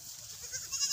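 A pet goat on a small farm, one of a herd of ten let out in the afternoon, gives a short, faint bleat alone against quiet outdoor background.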